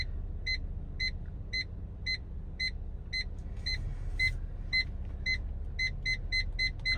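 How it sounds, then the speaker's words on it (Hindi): Changan Alsvin 1.3 manual car's parking sensor beeping as the car reverses toward a wall, a steady series of short electronic beeps that quicken near the end, heard over a low idling hum inside the cabin. "अभी करीब हूँ तो बीप कर रहा है, अब थोड़ा सा दीवार से दूर हूँ तो हल्की बीप हो गया।"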